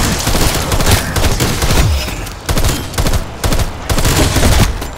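Rapid tactical rifle fire in Call of Duty: Black Ops Cold War Zombies, loud close bursts of shots in quick rhythm with brief pauses, alone without talk.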